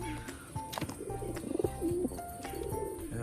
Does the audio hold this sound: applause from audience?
no